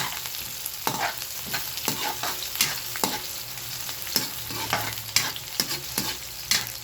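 Ground meat sautéing with garlic and onion in a pan for ginisang giniling, with a steady sizzle and repeated close scrapes of a spatula stirring at an irregular rhythm, no voices.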